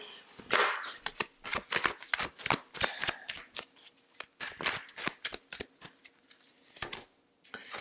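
Tarot cards being shuffled and drawn, a run of crisp riffling slaps and flicks in irregular bursts, close and fairly loud, with no voice over them.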